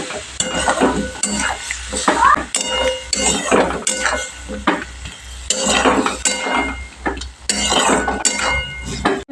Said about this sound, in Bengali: এবার আমি ভালো করে একটু নেড়ে নিচ্ছি।